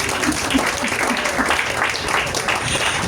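A church congregation applauds the Lord with dense, continuous clapping that holds at a constant loud level, mixed with voices.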